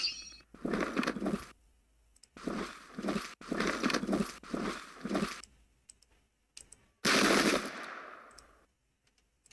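Massed musket volleys from troops in the Pike and Shot game at the Battle of Seminara, several bursts of rapid crackling fire separated by short pauses, followed by one louder, sharper blast that fades away.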